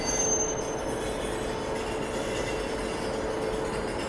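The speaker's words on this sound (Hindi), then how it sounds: "वहाँ पर महाबोधि एक्सप्रेस का डिपार्चर हो रहा है गया को जाने वाली" Mahabodhi Express hauled by a WAP-7 electric locomotive departing New Delhi station, a steady loud rumble of rolling stock with faint wheel squeal and hum, continuous and close, no talk.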